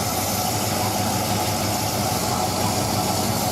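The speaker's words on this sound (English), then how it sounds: "Idling, had to bump the timing up a little bit." A 383 V8 engine fitted with a Comp cam idles with slightly advanced timing, a loud, continuous rumble with steady hiss and no change in pace, recorded close with no talking.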